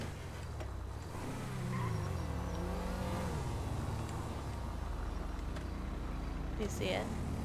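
A car engine in GTA V revs and accelerates, its tone rising and falling steadily under ongoing game noise, with a sharp burst near the end.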